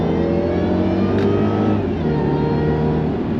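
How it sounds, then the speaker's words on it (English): A Jaguar XKR convertible's supercharged engine roars at full throttle in second gear, a loud, continuous rising growl from up close with no voices over it. "Drop it down a gear, drop it down another gear, drop it down to second, floor it."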